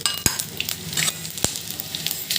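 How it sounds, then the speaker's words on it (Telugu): Cumin, coriander seeds, mustard seeds and dried red chillies frying in oil in a pan, a bright continuous crackling sizzle with a couple of sharp utensil clicks, no voice. "ఎండుమిర్చి వీటిని బాగా వేగనివ్వండి"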